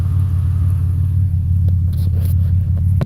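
Car driving along rural roads, a loud steady low engine and road rumble heard from inside, with faint rattles toward the end.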